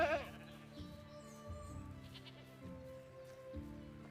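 Sheep bleating in the video game Medieval Dynasty, a few repeated wavering bleats at a moderate distance over a low, steady game background, quiet overall.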